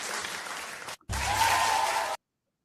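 Loud burst of clapping that cuts out briefly, then resumes with a sustained tone mixed in before stopping abruptly.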